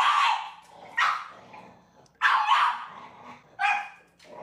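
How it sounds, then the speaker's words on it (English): A dog barks in short bursts, four or five sharp yaps with pauses between them, fairly close and clear against an otherwise quiet room where a comedian records a set without an audience. "We even hear his dog in the background at one point."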